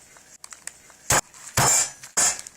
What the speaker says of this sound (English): you can pick up this big rock and smash it